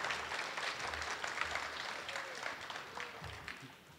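Audience applause at a school talent show, a steady wash of clapping from a crowd that holds for several seconds at moderate volume, with no talk over it.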